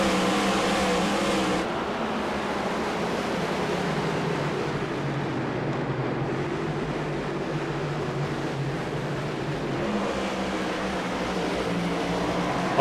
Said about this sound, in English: And green flag, we're racing at the Roval.